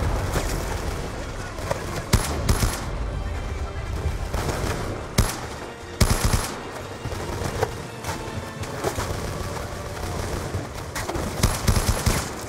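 Rapid automatic gunfire and bursts from the Call of Duty: Black Ops 2 video game, loud and near, with repeated sharp shots and heavy volleys layered over a dense battlefield din for the whole stretch.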